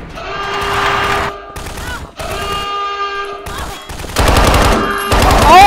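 Rapid automatic gunfire in Garry's Mod, loud bursts of shots in several volleys with brief gaps, close and dominant, with voices talking over part of it.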